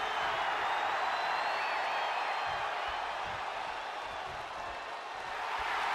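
Arena crowd in the wrestling video game WWE 2K22, a steady wash of cheering and crowd roar at moderate loudness, continuous throughout with no distinct peaks or voices standing out.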